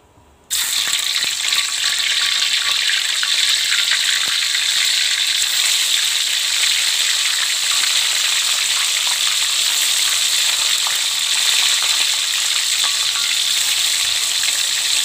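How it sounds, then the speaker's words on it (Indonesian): Tofu frying in a pan for a morning meal, starting abruptly after a brief quiet moment and continuing as a loud, dense, steady sizzle and crackle of hot oil with occasional pops, no talking over it. "gek dintas gek goreng tahu"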